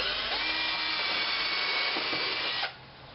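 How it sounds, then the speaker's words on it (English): A power drill bores a small pilot hole into a 2x4 for a wheelchair ramp, a steady high whine at close range that winds down sharply near the end, no voices. "I like to drill a little pilot hole so I don't want the 2x4 pulling"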